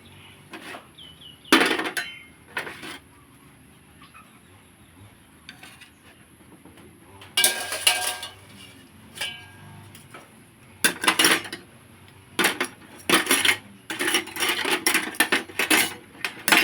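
Metal spoons clink and rattle against the bottom of a cooking pot, scattered bursts of bright clanks and knocks separated by quieter gaps, louder clusters toward the end.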